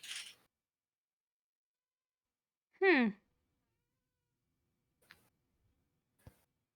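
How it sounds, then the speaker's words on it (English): A single clear cat meow in a quiet room, preceded by a short faint sound and followed by two soft clicks. "As a professional guide cat, here to show us the way, since Knuckles couldn't."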